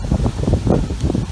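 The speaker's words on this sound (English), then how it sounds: "It's a bit windy still." Wind blowing outdoors during work on a 1936 Chevy coupe, a loud, steady low rumble and buffeting against the microphone, with gusty swells and no voices.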